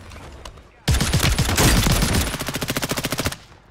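Rapid video game gunfire bursts in abruptly and loudly, a dense automatic volley that settles into a distinct evenly spaced string of shots before cutting off, with no voices over it.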